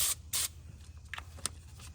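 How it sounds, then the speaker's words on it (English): Short hissing bursts of lithium grease aerosol sprayed onto a piece of paper, two strong sprays followed by fainter spurts and light rustling, close and quiet. "I like to spray it on the piece of paper."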